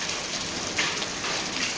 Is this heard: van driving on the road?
no